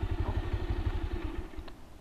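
A Bajaj Pulsar 150 motorcycle engine chugs in a steady, fast low thump near the microphone by a river in Assam, running alone without talk.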